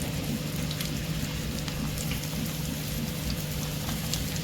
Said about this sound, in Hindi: पहले ऑयल को अच्छे से गर्म कर लिया है और अब हम इसे मीडियम फ्लेम पर फ्राई करते हैं।